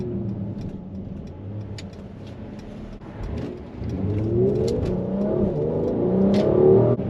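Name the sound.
Mercedes-AMG GLC 43 engine downshifting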